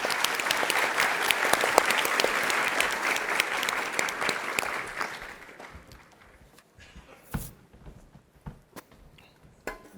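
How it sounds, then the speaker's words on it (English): Applause from a conference audience for startup presenters, loud and sustained for about five seconds, then thinning out into scattered claps over quieter room noise. "Give them a big round of applause."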